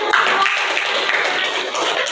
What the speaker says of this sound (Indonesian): Betul, beri tepuk tangan.